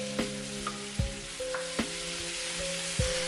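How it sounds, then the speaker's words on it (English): Beef and aromatics stir-fry in a hot pan, a bright continuous sizzle broken by several sharp clanks of the spatula against the pan at roughly regular intervals, close and without talk. "Immediately add your beef and stir to coat."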